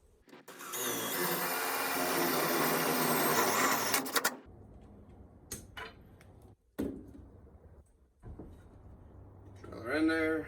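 A power drill whirs loudly for several seconds driving a screw, then stops, followed by short bursts of drilling and some handling noise.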